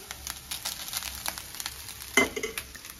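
Cooked rice is stirred into scrambled eggs frying in a pan, giving a constant sizzle with soft scraping stirs and one sharper clank of the spatula against the pan.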